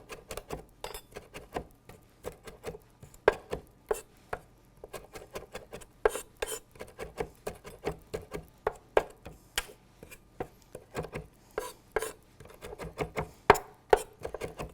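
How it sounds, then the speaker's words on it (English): A knife chops fresh basil for a marinated goat cheese dish, giving a steady run of sharp, close taps on a cutting board that speed up and crowd together toward the end, with no talking. "chop up some fresh basil"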